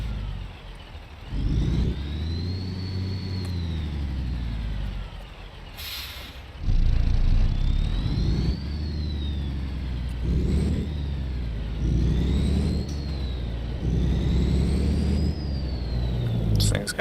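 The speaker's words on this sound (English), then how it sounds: "This thing's got a good engine sound" Western Star truck in American Truck Simulator, the diesel engine revving up and down in repeated rising and falling pulls, with a sharp air brake hiss partway through; close and loud, with talk over it.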